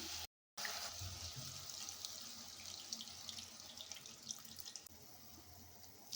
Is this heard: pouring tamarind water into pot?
yes